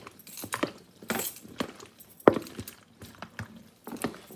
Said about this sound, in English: Okay, so he's gonna mix up our eggs.